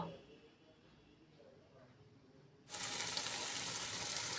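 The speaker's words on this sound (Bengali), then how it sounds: "এবারে ভালো করে আলুটা মশলার সাথে কষিয়ে নেব" Small boiled potatoes sautéing with spices in a pan for a Bengali curry, starting as a quiet low sizzle and turning into a loud, steady hiss of frying partway through, with a voice talking.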